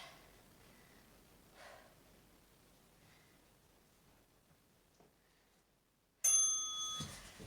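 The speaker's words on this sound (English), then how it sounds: "when the bell goes next time" A home Taekwon-Do workout timer bell rings once, loud and bright, near the end after several seconds of quiet breathing and faint rustling.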